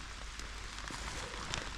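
Rain falls in a foggy mountain forest in the Carpathians, a faint, even patter of drops with no talk.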